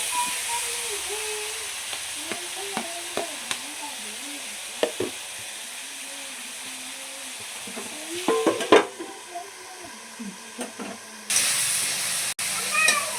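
Tomatoes stirred in a hot frying pan, with a steady sizzle and occasional scraping clatters of the spoon, while someone talks over the cooking throughout.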